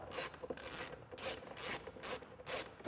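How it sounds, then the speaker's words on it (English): Ratchet wrench tightening T40 screws on a Polaris Sportsman PRO HD ATV winch install, a steady run of close, crisp clicking strokes in regular bursts, each pull a quick rasping ratchet burst with brief pauses between. "we'll go ahead and install our T40 screws, and we'll go ahead and torque those down the specifications."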